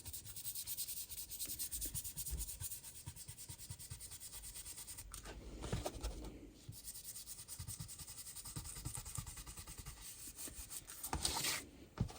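An ink blending tool rubs Distress Oxide ink around the edges of paper in a steady, soft scrubbing close to the microphone, with a few brief louder swipes.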